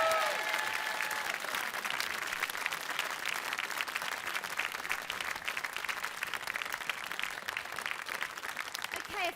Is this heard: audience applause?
yes